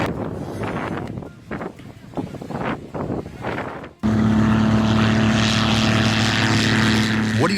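A Spitfire propeller aircraft goes out of control. The first half is a muffled, windy rumble with a voice, then a loud, steady engine drone with a strong tonal hum takes over abruptly and continues to the end.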